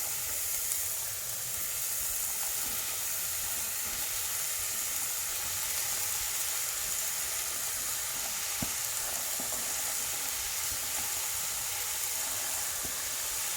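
Cabbage, potato and tomato sizzle steadily in a pan of masala, a continuous close frying hiss with faint stirring scrapes running throughout.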